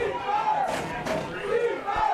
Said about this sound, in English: listen to this crowd, folks. They love their Storm